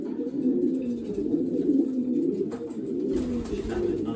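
Racing pigeons, gathered for basketing before a race, coo in a continuous low, throaty murmur close by. Faint handling noises come near the end.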